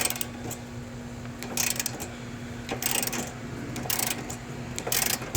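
A ratchet wrench turns to remove a self-locking nut on the rear wheel bearing of a 2013 Chevrolet Malibu, making several separate bursts of clicking ratchet strokes, close and fairly quiet over a faint steady hum.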